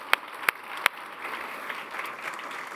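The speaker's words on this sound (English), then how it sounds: "So if we can give all those guys a round of applause," A conference audience breaks into applause, opening with three loud distinct claps close to the microphone, followed by a softer, steady spread of clapping from the room.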